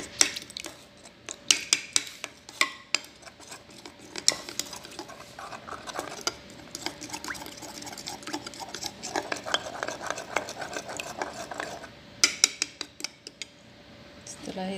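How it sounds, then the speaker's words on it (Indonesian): Metal utensils clink and scrape against a bowl as rocket salad is tossed with lemon, salt and olive oil, a steady run of close, irregular taps with sharper clatters, and no voices. "kita tambahkan lemon. Garam, minyak zaitun, kita aduk dulu deh."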